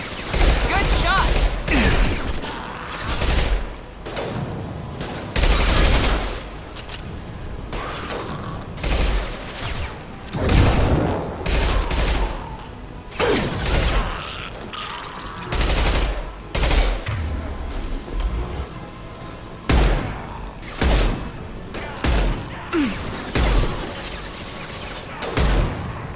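Rapid gunfire bursts and heavy concussive shot blasts from the Mass Effect 2 video game ring out in dense, loud clusters across the whole stretch, with voices calling out between the shots.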